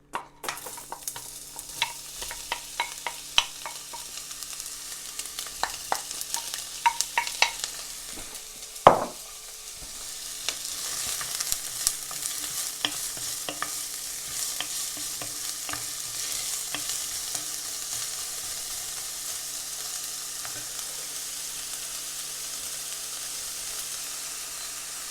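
Onions hit hot oil on a high flame and burst into a loud, close sizzle with a sharp crackling surge partway through, then settle into a steady hiss with scattered pops; no one speaks.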